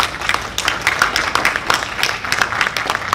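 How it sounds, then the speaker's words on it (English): A community gathering's audience applauds for its council president, a round of scattered hand claps with distinct individual slaps, moderately loud and close, continuing steadily without speech. "Give her a round of applause."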